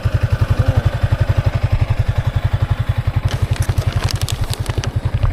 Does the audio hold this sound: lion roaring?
no